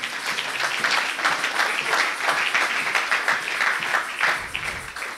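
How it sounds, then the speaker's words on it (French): A church congregation bursts into sustained applause acclaiming Jesus, many hands clapping densely and steadily at a fairly loud, even level throughout. "Acclamons le Seigneur Jésus."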